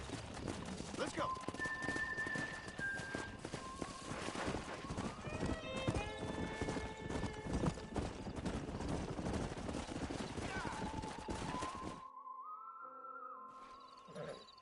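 Horse hooves clip-clopping steadily with whinnies in the Red Dead Redemption video game, joined by scattered gunfire and talking, then fading to a quieter tonal stretch near the end.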